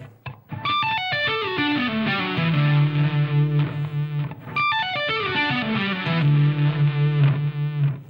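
A heavily distorted electric guitar repeats a metal solo lick at a moderately faster pace, two descending runs each ending on a sustained vibrato note, loud and clear without any voice.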